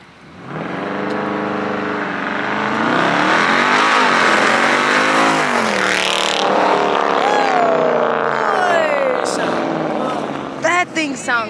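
A modified car revs hard at a cold-weather car meet, its engine climbing and falling in long loud sweeps nearby before dropping off, with crowd voices underneath.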